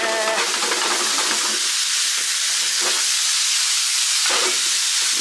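Yakisoba sauce sprinkled onto maitake noodles frying in a hot pan, giving a loud, steady, broad hiss and sizzle with a few brief bursts, close and continuous with no talk.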